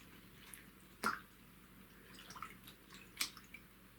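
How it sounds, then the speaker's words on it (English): A knitted Moebius cowl is gently squished around in a basin of water, giving soft, quiet drips and wet squelches, with two sharper splashy squishes standing out against a faint background hiss. "place this in the water and make sure it's fully submerged. Squish it around just really gently."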